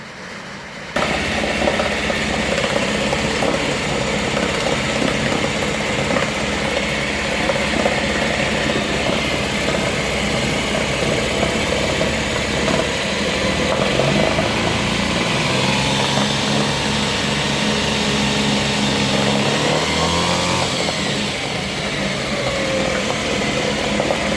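A boat outboard motor, dropped and left lying on its side in a trailer, runs steadily after starting first pull, a loud continuous idle with a droning, propeller-like hum that shifts slightly in pitch toward the end.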